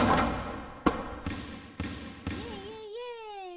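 In a children's video game a ball is thrown into a basket, landing with a few bouncing thumps spaced about half a second apart, followed by a bright rising chime melody, fairly faint.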